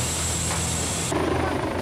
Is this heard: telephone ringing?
no